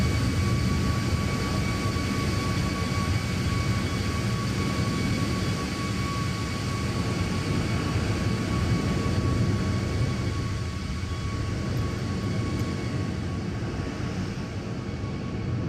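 A Boeing 737 MAX 8 jet airliner in Alaska livery flies from Seattle to Los Angeles in Microsoft Flight Simulator, its engines giving a steady, loud roar with a thin tonal whine throughout and no talking.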